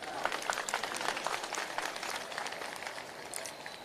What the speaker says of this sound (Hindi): तो एक बार जोरदार उनके लिए ताली आप लोग बजाएं।